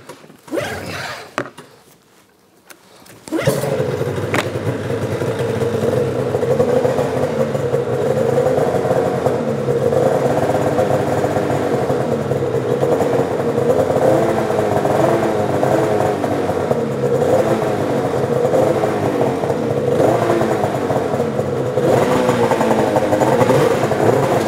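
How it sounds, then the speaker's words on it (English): A Polaris RMK snowmobile with a turbo engine starts after a brief rustle and settles into a steady, loud, close running drone with slight rises in pitch, and no one speaks over it. "Well, let's hear the turbo."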